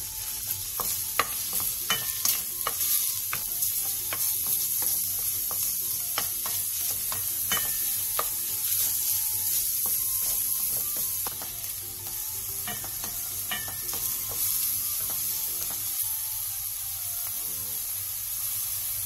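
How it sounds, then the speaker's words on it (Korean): Beef and minced garlic stir-fry in perilla oil in a pot over medium-low heat, a soft continuous sizzle and hiss broken by frequent clicks and scrapes of a stirring utensil, with no talking. "냄비에 들기름 2스푼과 소고기, 다진 마늘 반스푼을 넣고 소고기에 핏기가 가실 때까지 중약불에서 볶아주세요."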